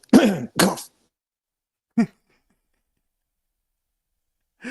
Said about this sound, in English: I don't think I got to say the word cough while pretending to cough